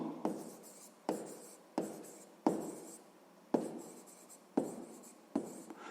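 Pen writing on paper during a sixth-grade math exercise: seven close, distinct scratchy strokes at a steady rhythm, each a sharp onset fading quickly, with nothing else heard.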